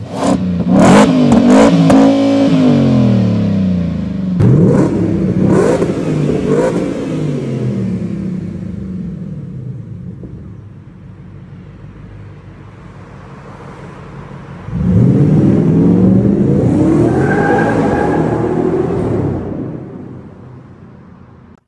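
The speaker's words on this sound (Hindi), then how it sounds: "पूरा एग्जॉस्ट सिस्टम भी देख रहे हो आप नीचे, जो मैंने आपको स्टार्टिंग में दिखा सुनाया था, but no worries, take a listen to it again" A car's exhaust system barks through a few sharp revs, then settles into a lower, fading idle before one more sustained rev climbs and holds near the end; loud and close, with no talking.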